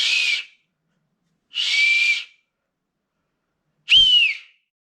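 Three loud, shrill finger whistles blown with the fingers in the mouth, each about half a second to a second long and separated by silent gaps, alone with no other sound.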